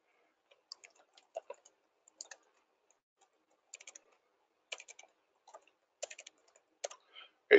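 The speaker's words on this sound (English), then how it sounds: "It might not work because I'm in a bit of a hurry typing this." Typing on a computer keyboard, sparse clusters of quick light key clicks in short bursts with pauses between, close and fairly quiet, no other sound.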